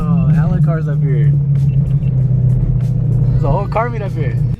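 Several cars idle and rumble close by at a foggy hilltop car meet, a steady low engine drone running throughout while people talk loudly over it.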